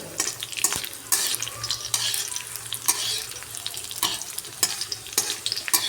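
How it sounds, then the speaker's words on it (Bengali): Bay leaf and raisins temper in hot oil while a utensil stirs them, producing a steady close sizzle with repeated scraping clacks against the pan throughout. "কিছুটা কিশমিশ দিয়ে দিলাম, দিয়ে এটাকে একটু ভালো করে নাড়াচাড়া করে নেব।"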